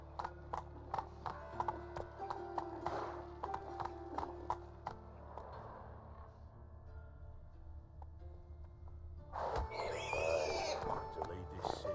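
Roach, a horse in The Witcher 3, clip-clops along in steady hoofbeats, with a brief whinny and some game sounds; the hooves fade partway through before a louder burst of activity near the end.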